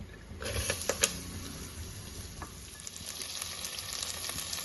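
Mustard seeds, fenugreek, curry leaves, dried red chillies, small onions and asafoetida fry in oil, giving a close, continuous sizzle with a few sharper pops near the start.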